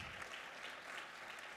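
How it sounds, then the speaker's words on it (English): A crowd at a tribal mental health summit in Lawton, Oklahoma claps to welcome a speaker, a soft, steady wash of applause heard faintly from a distance for under two seconds. "I'd like to a big round of applause and a welcoming to Zachary Black Owl."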